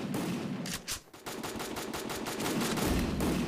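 Rapid automatic gunfire in the mobile shooter Free Fire, dense close bursts rattling almost continuously with a brief gap partway through.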